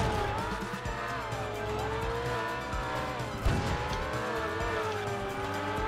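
Video game cars in MakeWay race along with a steady engine drone and tire squeals weaving through, one brief bump near the middle, no voices.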